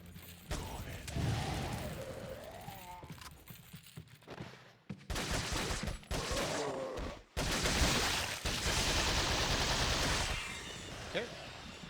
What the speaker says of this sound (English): You want to shoot him down and kill him quickly.